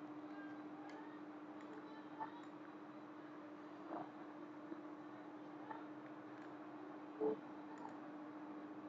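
A computer mouse clicking during Corel Draw 2019 design work, sparse faint clicks spaced seconds apart over a low steady electrical hum, with one slightly louder click near the end.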